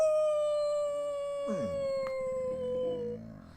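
A dog lets out a long, wavering howl that rises and falls in pitch, close and fairly loud over a sustained tonal note, then trails off at the end.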